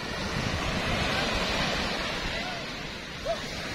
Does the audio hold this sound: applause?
no